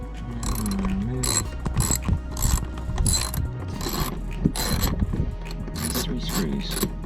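A T20 Torx driver backs screws out of a BMW 528i door panel, giving close, repeated ratcheting clicks in short bursts against a steady low hum.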